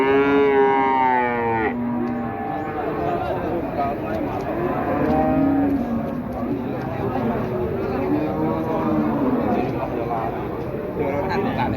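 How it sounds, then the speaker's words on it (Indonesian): Cattle at the Wirosari livestock market moo loudly and close by, one long drawn-out low call at the start followed by more lowing amid crowd chatter and people talking. "Ada sapi doro."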